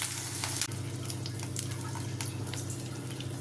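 Onions, green chillies and tempering spices fry in two spoons of oil in a pan, a steady close sizzle with a faint crackle running evenly throughout.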